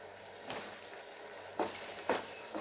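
Prawns roasting in ghee in a pan over a medium flame: a steady close sizzle with three brief scraping stirs, no voices.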